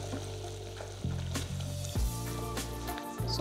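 Softened butter hitting hot caramel sugar syrup in a saucepan just off the stove, sizzling and bubbling loudly and steadily at close range while being stirred.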